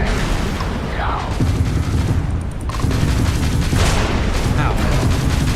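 Gunfire in the sci-fi video game Starfield, a dense run of rapid shots and booms with mechanical clatter, loud and continuous under a speaking voice.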